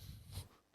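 A dog snorts and breathes heavily up close, giving a brief burst of rough, wheezy nasal sound that trails off into quieter breathing.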